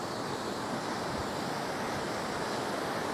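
A constant, full roar of rushing water from a swollen mountain river crossing the route on the Sural Bhatori road in Pangi, Chamba. The broad, unbroken wash holds steady the whole time, with no voices.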